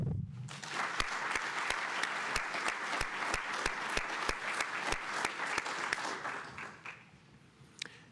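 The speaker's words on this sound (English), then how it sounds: "So how about a round of applause for our village, huh?" An audience at a military commissioning ceremony applauds warmly, the dense clapping holding for several seconds alongside regular sharp ticks, then thinning out and fading near the end.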